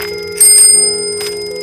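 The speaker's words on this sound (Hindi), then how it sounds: "तभी अचानक वहां साइकिल की घंटी की आवाज सुनाई देती है" A bicycle bell rings sharply twice, bright metallic dings with a short gap between them, close and clear over a faint steady hum.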